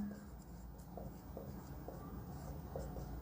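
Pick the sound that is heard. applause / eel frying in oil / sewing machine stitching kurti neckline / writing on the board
writing on the board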